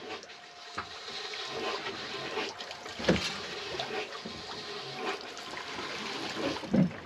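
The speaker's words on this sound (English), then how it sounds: "I'm gonna run the bilge pump now and see if it just pumps into the cockpit locker" A bilge pump runs aboard a 30 ft sailboat, a steady watery churning hum with gurgling flow and a couple of louder knocks, close and without voices.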